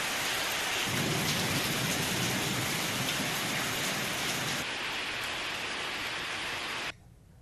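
Heavy rain pours down in a dense, steady hiss while low rumbling thunder rolls underneath, ending abruptly, during a Gujarat thunderstorm.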